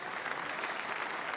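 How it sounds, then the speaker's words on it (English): An audience applauds steadily on stage at a cricket awards event, a dense, even wash of clapping from many hands, held at a constant level throughout with no voices over it. "A big round of applause, ladies and gentlemen."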